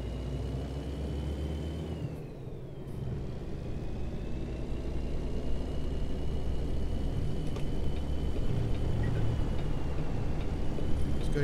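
Kenworth W900 truck with a 10-speed manual gearbox in American Truck Simulator, deep steady diesel drone and rumble throughout with a brief dip around a gear change, continuous and fairly loud.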